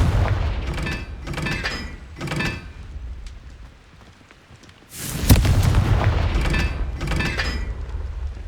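Repeated fiery spell blasts and bursts from the Hogwarts Legacy video game, with a fire spell explosion; several loud crackling impacts come in clusters, a quiet lull, then a heavy boom around the middle followed by more sharp bursts.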